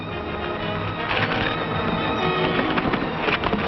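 Horses gallop and whinny during an action scene in a 1941 Western film, with dense clattering hoofbeats and rider commotion filling the soundtrack at a steady, loud level.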